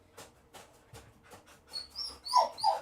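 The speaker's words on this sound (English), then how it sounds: "And this one barks at them all." Dogs at a grooming salon, with one dog giving a run of soft, evenly spaced barks and whimpers at first, followed by louder, higher yelps and whines near the end, all fairly close.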